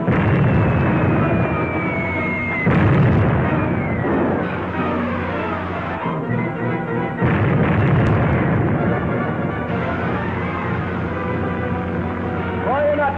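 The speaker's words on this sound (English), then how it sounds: "That's a 3-inch shell they're firing at us." Artillery fire from 3-inch shells in a 1945 film serial, a dense continuous roar of explosions and bursts with sharp booming onsets, loud throughout and layered with a whining sound and other battle noise.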